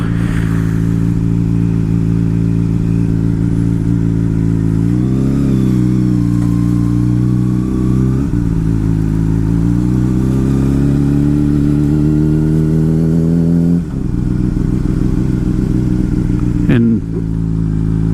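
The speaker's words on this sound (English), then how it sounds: "I just don't feel like shutting my bike off." A motorcycle engine idles loudly and close for the whole stretch, a steady low throb with slight rises in pitch, while a rider talks over it.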